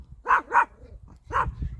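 Dogs bark three times, two quick loud barks close together and a third after a pause, near and clear with low rumbling in the background.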